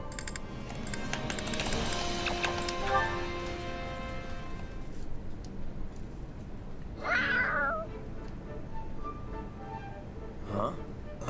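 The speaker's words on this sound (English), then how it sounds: "Oh, it's a cat. Looks like something spooked it." A startled cat meows in Fire Emblem Warriors: Three Hopes, a short upward cry standing out over steady game music in the middle, with a fainter second call near the end.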